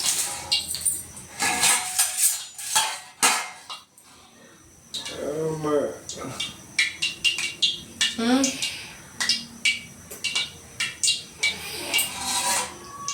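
Knife chopping ingredients such as boiled eggs on a board while making egg and chilli bajji in a home kitchen, with a run of close, irregular taps and scrapes and a person talking over part of it.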